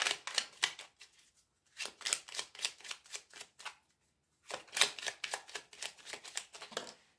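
Tarot cards being shuffled by hand: two runs of quick, crisp riffling slaps, close and fairly loud, with a silent gap between them.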